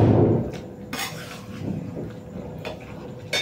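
Food being stirred and sautéed in a cooking pot, with a sizzling wash at the start followed by scattered scraping and clinking of a utensil against the pot, fairly close and moderate in volume.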